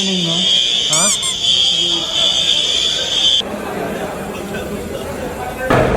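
A building fire alarm during a fire drill in Dubai sounds a continuous high-pitched electronic tone, close and steady, then cuts off, while people chat nearby.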